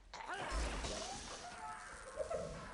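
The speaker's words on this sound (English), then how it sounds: "That's a good explosion." An explosion in the video game Unreal 2: The Awakening bursts with a heavy low thump and crash, then rumbling debris and a fading tail, with brief game sounds after.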